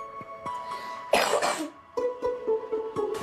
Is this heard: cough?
yes